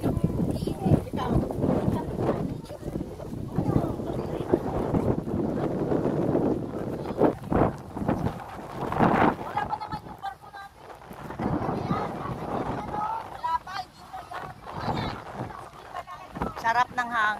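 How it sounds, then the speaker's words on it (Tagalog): Wind blows across an island beach, buffeting the microphone with a steady low rumble and gusty roar while people talk nearby. "Sarap ng hangin."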